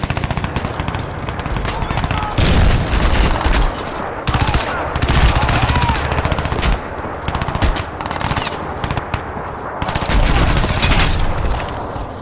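Rapid automatic gunfire from the first-person shooter Crysis 2 Remastered, loud, close bursts that repeat in quick rhythm across the clip with brief pauses between volleys and a dense game soundscape behind.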